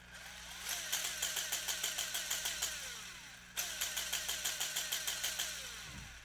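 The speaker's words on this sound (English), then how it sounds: "This is what the rev limiter sounds like." Small brushless RC car motor on a Furitek PIXI ESC bouncing off its rev limiter, a rapid stuttering buzz pulsing about twice a second in two runs with a brief break between, loud and close with no talk.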